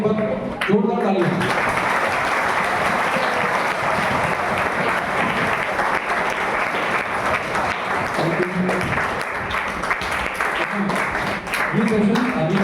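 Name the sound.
loud applause for school management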